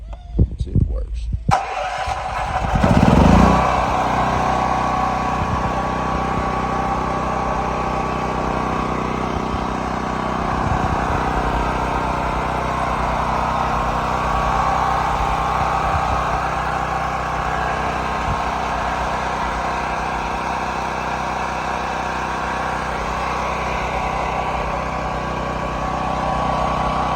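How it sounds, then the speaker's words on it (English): A Predator 8750 portable generator, left outside for eight years, cranks with a few sputters, catches, and then runs at a steady, loud, continuous drone close by. "Nice little generator for free, huh?"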